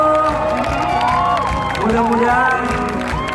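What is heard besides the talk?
concert audience applauding and cheering at Jakarta Fair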